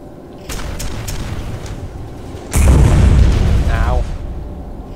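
Rocket explosions in the PC shooter game Quake 4, two loud booming blasts a couple of seconds apart, the second heavier and rumbling on, with game sounds around them.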